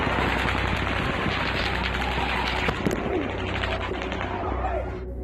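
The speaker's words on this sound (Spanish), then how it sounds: "varias grabaciones captaron sonidos de disparos que parecían duplicarse" Rapid gunfire recorded during the Las Vegas mass shooting, a dense continuous string of shots with echoes, heard from a distance amid crowd noise before cutting off abruptly.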